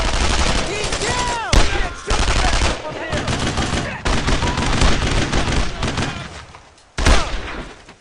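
Rapid gunfire in the World War II shooter Brothers in Arms: Road to Hill 30, loud overlapping rifle and machine-gun bursts crackling near and far in a park setting, with soldiers' shouted voices mixed in.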